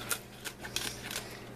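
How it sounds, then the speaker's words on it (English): Several quick, crisp snips of kitchen scissors cutting through fibrous collard green stems, close up, with short pauses between cuts and no talking. "So I just take some clean kitchen scissors"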